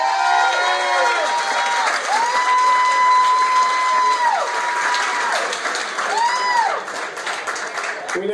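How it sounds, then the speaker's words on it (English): A crowd at a Centerville, Ohio show gives veterans a sustained round of clapping and cheering, with dense claps running the whole time under wavering tonal sounds. "Let's give these guys a round of applause."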